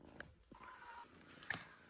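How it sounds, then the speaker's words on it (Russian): A domestic cat meows a few short times while lounging in a hammock shared with other cats at home, the calls soft and close with quiet gaps between them. "Так а что ты мявкаешь?"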